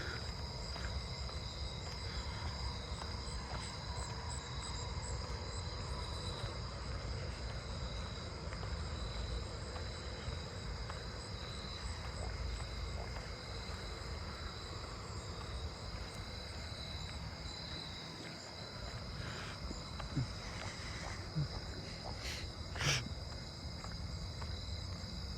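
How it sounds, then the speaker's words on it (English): A chorus of narrow-winged tree crickets sings from a neighbourhood tree, a constant overlapping high trill sustained throughout among other insect calls, with a few faint clicks near the end and no talking. "Here's the tree with all the narrow-winged."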